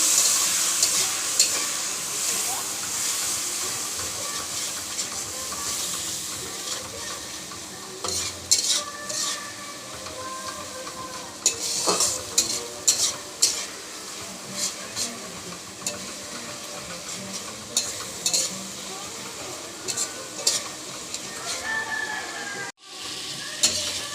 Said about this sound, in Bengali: আমি এবার হলুদ আর শুকনো লঙ্কা বাটা দিয়ে দিচ্ছি তুলে একসাথে। এটা দিয়ে কষাবো।